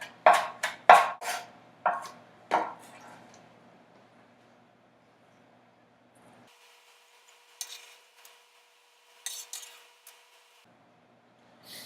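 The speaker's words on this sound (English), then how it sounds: "And now the rest of it I'm just going to mince up, same way you did the garlic and the onion." A knife mincing pepper on a cutting board, a quick series of sharp taps at first, then sparser scattered knocks and scrapes after a quiet stretch.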